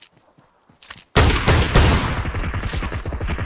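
Gunfire in the mobile battle-royale game PUBG Mobile erupts as a loud, dense burst of rapid shots after a quiet start, continuing as sustained automatic fire.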